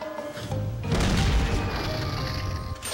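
Loud booming blast and rumble of a cannon launching the player in the video game Skylanders: Spyro's Adventure, with a sharp onset, then a sustained roaring whoosh carried by game music.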